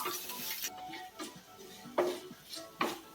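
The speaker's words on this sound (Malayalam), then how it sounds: "നന്നായിട്ടൊന്ന് മൂത്ത് വരുന്നത് വരെ ഒന്ന് ഇളക്കി കൊടുക്കാം" Ginger and garlic roasting in a pan for pineapple pachadi are stirred with a utensil, giving soft scrapes and several sharp clinks against the pan, close but quiet, with no talk.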